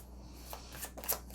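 Tarot cards are shuffled by hand, giving a soft, quiet papery rustle with a few light riffling flicks near the end.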